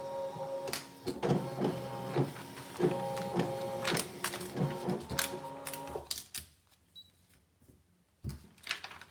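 A ScanNCut electronic cutting machine cuts a paper flower shape about 4 inches tall, giving close, loud mechanical whirring and rhythmic clicking carriage movements for about six seconds, then quieter intermittent clicks and a final brief burst.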